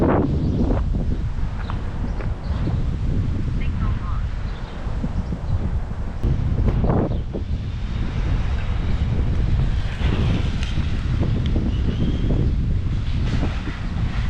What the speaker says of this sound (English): Then as soon as I do this, the wind pick up.